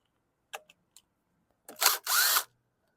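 A cordless power drill/driver backs out carburetor bowl screws on a Briggs & Stratton 550E series engine, a few faint clicks followed by two close, loud whirring bursts of the motor spinning, the second one longer and steady.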